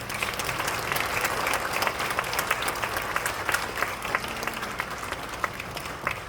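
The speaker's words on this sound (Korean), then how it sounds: "다시 한번 모두에게 큰 박수로 축하해 주시기 바랍니다" Sustained applause from a church congregation at an ordination thanksgiving service, steady dense clapping filling the whole stretch at moderate level.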